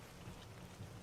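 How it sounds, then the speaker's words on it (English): Steady rain plays as a soft, dense background hiss with a faint low rumble, fairly quiet and unbroken throughout, with no talking. "get the rain sounds to not be so rainy"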